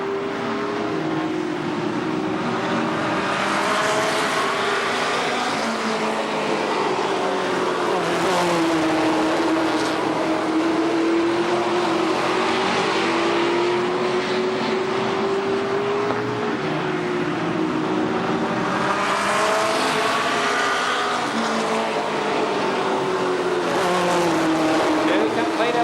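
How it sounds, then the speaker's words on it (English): Limited sportsman race cars roar through a heat race at Columbus Motor Speedway, a loud, continuous wall of engine noise that swells as cars sweep past, with an announcer talking over the din. "Mike Squire, Mike Brown, and Jimmy Kidd round out the field for the second limited sportsman heat race"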